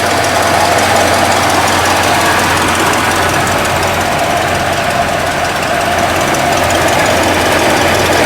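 A 1969 Buick GS engine with 74,000 miles idles steadily close by, a constant low rumble with a faint knocking texture that holds even and unbroken throughout.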